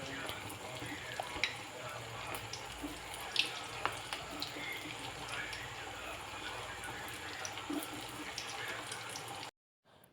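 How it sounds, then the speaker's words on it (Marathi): Gobi manchurian balls deep-fry in very hot oil on a high gas flame, giving a steady, quiet sizzle and bubbling hiss throughout, cut off abruptly at the end. "एकदम चांगलं कडकडीत तेल तापलेलं आहे आणि थोड्या वेळासाठी गॅसची फ्लेम हाय ठेवायची आणि पटापट हे मंचुरियन यामध्ये सोडायचे"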